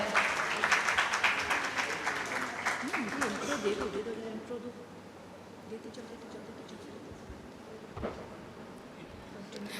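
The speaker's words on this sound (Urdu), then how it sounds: "تالیوں میں کنجوسی نہ کریں" An audience at a religious and higher education award ceremony claps, loud at first and then fading after a few seconds into quieter room noise with a few scattered claps.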